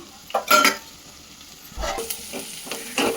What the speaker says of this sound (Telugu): ఫ్రైడ్ ఆనియన్స్ ఆయిల్ వేసి ఉల్లిపాయలు, పచ్చిమిరపకాయలు వేసాను